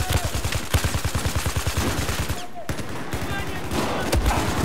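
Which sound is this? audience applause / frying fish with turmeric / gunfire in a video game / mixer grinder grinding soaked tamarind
gunfire in a video game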